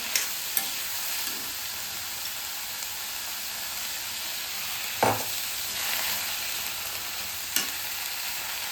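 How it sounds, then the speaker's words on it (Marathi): Steady sizzle of raw cluster fig (gular) fruit vegetable mixture frying in a pan, with a few light clinks of a spoon stirring at scattered moments. "हे मिश्रण बघा चांगल्या प्रकारे असे फिरून घेणार आहे"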